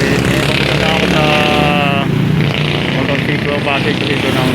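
Hero Xoom XTEC 110 ZX motorcycle riding along, a steady engine drone and road rumble loud and constant throughout, with someone talking over it.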